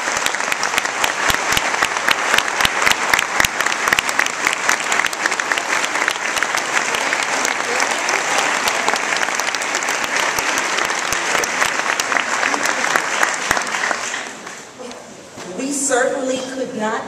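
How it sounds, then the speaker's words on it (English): A large audience at a Miami Dade College event gives a standing round of applause, loud dense clapping sustained for about fourteen seconds before thinning out, with a voice speaking briefly near the end. "would you all just stand and allow us to give you a round of applause?"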